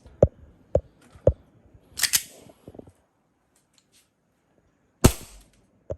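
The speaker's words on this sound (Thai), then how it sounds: "อ่ะมาครับทดสอบความเร็วกระสุนกัน" A WE M1911 Colt Defender gas airsoft pistol fired through a chronograph: three sharp, close cracking shots about half a second apart, then a louder burst with a clatter, and one more crisp pop after a pause.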